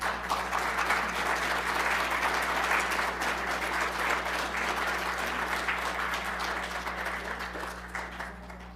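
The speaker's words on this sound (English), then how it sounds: "Another huge round of applause for our artist, Nadya Kwandibens." Sustained audience applause at an artist talk in the Thunder Bay Art Gallery's Red Chair Sessions for photographer Nadya Kwandibens, dense steady clapping filling the room for about nine seconds, with a low steady hum underneath.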